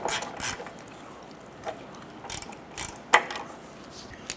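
A nut on the front lower control arm of a 2008-2012 Honda Accord is snugged down with a ratchet: a few sparse, close metallic clicks and clacks separated by quiet gaps.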